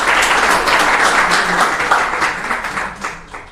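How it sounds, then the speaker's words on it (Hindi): Audience applause at a motivational seminar as a student is honoured, loud, close and dense clapping that tapers slightly toward the end. "जोरदार तालियां"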